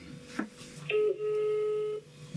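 A mobile phone placing a call at a snowboarding resort: a short tone, then a steady ringback tone holding for about a second before cutting off, close and clear with no talk.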